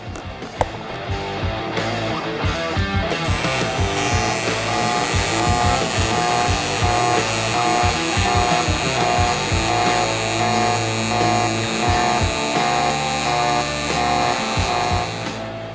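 TIG welding an outside corner joint on two metal pieces with filler metal added, a steady sizzling arc buzz running continuously at close range with no talk.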